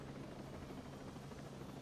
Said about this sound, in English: That was my helicopter